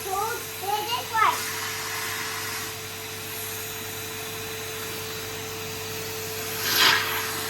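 Henry Hoover vacuum cleaner running at home, a steady droning hum that continues throughout, with a voice and some rubbing and clattering of attachments over it.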